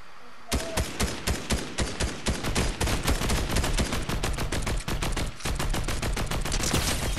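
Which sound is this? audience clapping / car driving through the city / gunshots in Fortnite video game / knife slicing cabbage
gunshots in Fortnite video game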